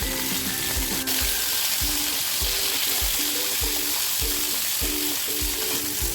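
Hog plums stir-frying in hot mustard oil with panch phoron and a dried red chilli give a loud, steady sizzle. A spatula stirs and scrapes them in a regular rhythm, with no one talking.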